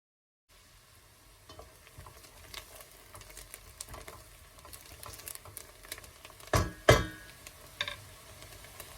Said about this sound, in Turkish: Havuçla soğanımızı güzelce kavurmaya devam edelim.